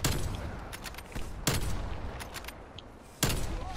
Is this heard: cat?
no